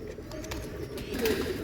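Soft, low pigeon cooing murmurs close by at a pigeon farm, a steady bubbling rumble that swells slightly toward the end, with no one talking.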